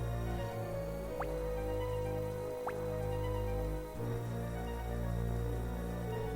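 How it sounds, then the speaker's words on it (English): Water drips steadily in a cave in the Quest for Glory I video game, with a couple of faint drops and a plink set against a loud, sustained synthesized musical drone. "You hear the constant drip of water."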